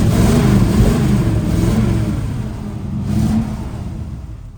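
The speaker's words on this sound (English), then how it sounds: "Drives out good, clutch is solid, brakes the way it should." A 1968 Chevrolet Camaro engine pulls steadily on a windy test drive, a loud continuous mid-range rumble that swells slightly as it accelerates, with wind noise over it and no talking.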